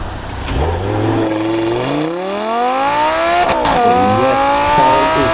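A Lamborghini Super Trofeo race car with over 600 horsepower accelerates hard, its engine note climbing steadily in pitch before a gear change near the end, then revving on loudly and close with no speech.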